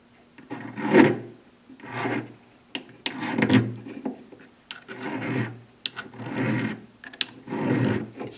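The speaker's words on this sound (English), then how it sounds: "utilizing your half-round 0 coarse file, place the piece into the notch in the bench pin." A coarse half-round file rasps along the cut edges of a small metal piece held in the notch of a jeweller's bench pin, deburring it in about eight slow, rhythmic strokes that come up close and fairly quiet, with no one talking.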